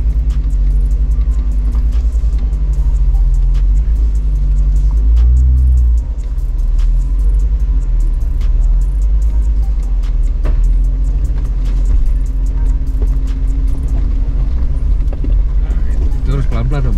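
A Jeep crawls slowly across a high bridge with a steady, loud low engine rumble, occasional creaks and clicks from the chassis, and a brief surge of power partway through.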